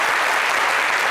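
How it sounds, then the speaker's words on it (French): Audience applause on a French-language TV talk show, a dense, even burst of many hands clapping together. "Applaudissez pour lui."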